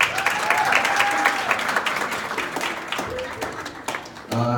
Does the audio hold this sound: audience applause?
yes